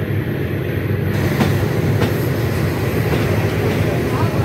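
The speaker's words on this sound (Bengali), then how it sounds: "আমাদের ট্রেন এই মুহূর্তে ছাড়লো চট্টগ্রাম রেল স্টেশন" The Cox's Bazar Express train departs Chattogram railway station, rolling along with a steady low rumble and faint rhythmic clacking, with the rolling noise filling the whole stretch.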